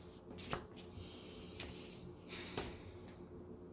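Gypsy fortune-telling cards shuffled by hand during a reading: close, soft papery riffling that runs steadily throughout, with a few sharper slaps as the deck is squared, and no one talking.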